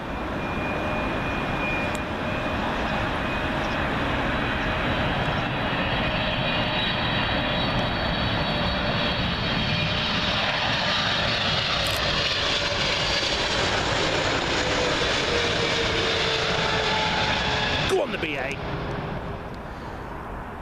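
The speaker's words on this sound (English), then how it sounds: "Another British Airways 777 coming in." A British Airways Boeing 777 arriving from Washington on approach to runway 27L at Heathrow, a long, loud, steady jet roar with a high engine whine, ending in a sharp click as the noise eases.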